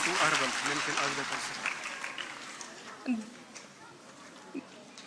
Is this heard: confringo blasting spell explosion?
no